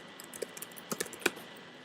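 Quick bursts of keystrokes on a computer keyboard, a few scattered clicks followed by a tighter cluster, close and fairly quiet with no talking.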